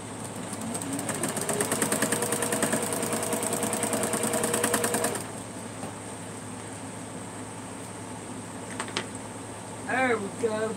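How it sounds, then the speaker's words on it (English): A sewing machine stitches quilt fabric for a four-patch block, running with a steady rapid mechanical chatter for about five seconds before it stops. Quieter room tone and a few faint clicks and handling sounds follow. "we're going to go back and we're going to sew on this side"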